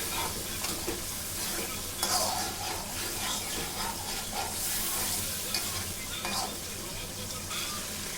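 Ground cumin, coriander and chili powder with biryani masala sizzle steadily in a hot pan while being stirred for a mutton curry, a close, continuous frying hiss with occasional scraping.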